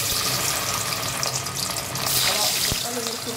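Meatballs sizzle in a hot pan as they are seared, a steady dense crackle with occasional clatters, heard close up.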